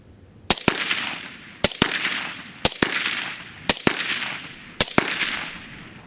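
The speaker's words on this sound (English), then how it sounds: "I'm gonna put 5 rounds back on steel" Five suppressed 5.56 rifle shots from an Otter Creek Labs Polonium suppressor ring steel targets outdoors, evenly spaced about a second apart, each a sharp crack followed by a bright metallic ping that rings and decays.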